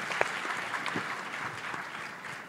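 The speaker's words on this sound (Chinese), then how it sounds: "一个掌声。" An audience applauds at a national university debate final in Malaysia, a brief, even spell of many hands clapping, fairly distant and steady throughout.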